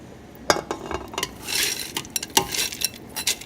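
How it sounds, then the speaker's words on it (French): Green peas go into a cooking pot with cooked meat, producing close, clattery rattles and metallic clinks, with a brief hissing patch in the middle and no talking. "Maintenant, je vais rajouter les petits pois verts."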